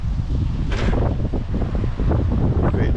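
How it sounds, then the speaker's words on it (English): Wind gusting steadily across an outdoor farm campsite by a caravan, a loud continuous roar buffeting the microphone for the whole stretch, with nothing else clearly heard. "don't know if you can hear me because of the wind"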